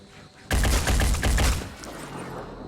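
Burst of rapid gunfire in the tactical video game Phoenix Point, a loud rattling volley lasting about a second that quickly tails off into fading echoes.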